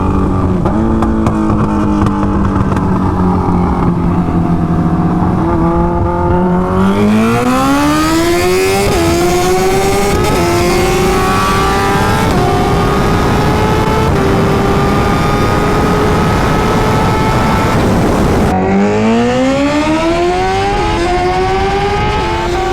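Kawasaki Ninja H2 motorcycles drag race, engines screaming loud and close as revs climb steadily through several upshifts, pitch dropping at each change before rising again, then a fresh hard acceleration near the end.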